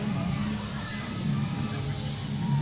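Crowd at a Red Rock Wrestling event cheering and shouting in a continuous roar, moderately loud and steady with swelling voices throughout.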